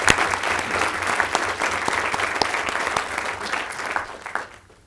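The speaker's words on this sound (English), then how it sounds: "Let's give them a round of applause." A school board meeting audience claps for student award winners, a dense, lively burst of many hands that holds steady and then thins out and fades near the end.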